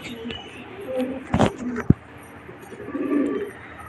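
Rooftop pigeons coo softly and close by in short low bursts, with a brief sharp click and faint surrounding noise.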